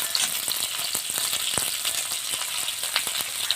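Small turmeric-coated shrimp sizzle loudly in hot oil, a dense, close hiss with frequent sharp crackles and spits throughout.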